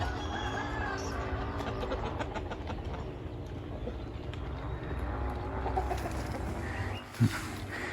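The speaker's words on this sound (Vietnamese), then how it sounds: "Con trống vàng" Yellow H'mong rooster on a hillside farm, clucking in a steady run of short calls, with a flock of black native chickens around it under constant outdoor background noise, a brief thump near the end.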